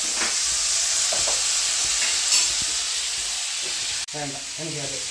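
Ginger and garlic frying in a pan, a loud, steady, close sizzle with a few stirring scrapes, and a voice briefly speaking near the end.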